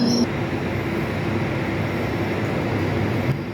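A London Underground train rumbles steadily with a dense, continuous roar of wheels and motor, loud and enclosed throughout.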